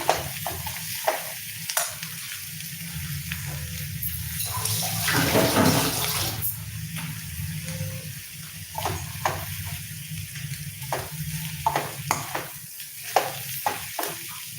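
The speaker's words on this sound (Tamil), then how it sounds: "நல்லா அந்த முட்டை வேகம் தண்ணி கிளறி கொடுத்துக்கணும்" Egg and greens frying in a pan, stirred with a utensil: steady soft sizzle and bubbling under repeated scraping and clinking strokes, louder in the middle, with no talk.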